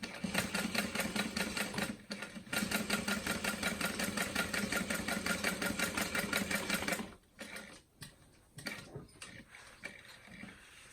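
Close, loud sewing machine runs steadily stitching a bowler bag for about seven seconds, then slows into short separate bursts and single stitches with pauses between.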